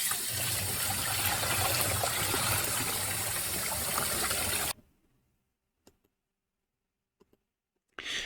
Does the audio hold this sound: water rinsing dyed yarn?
yes